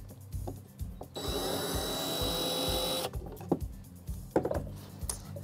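A power tool backs hardware out of a wooden buffet dresser, a close, high whirring drill-like spin lasting about two seconds, framed by rhythmic clicking and light knocks before and after.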